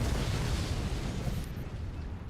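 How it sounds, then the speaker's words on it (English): Loud, rumbling explosions sound in the strategy video game Forts, a dense continuous roar of overlapping booms that thins out toward the end. "Secondary explosions all around."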